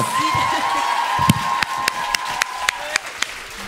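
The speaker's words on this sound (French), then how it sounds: "Bon, même applaudissement pour vos animatrices, Rose et Jeff." Audience members cheer the hosts with slow, rhythmic clapping, a series of evenly spaced sharp claps over a faint crowd murmur and a steady high tone lingering in the room.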